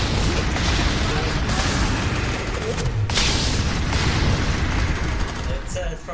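Frag grenade explosions and gunfire in the video game F.E.A.R. 3, a dense, continuous roar of blasts and shots with shouting voices mixed in.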